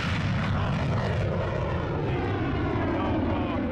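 A US MQ-9 drone flies over Hodeidah, its steady propeller-engine drone filling the air continuously, fairly loud and unbroken throughout.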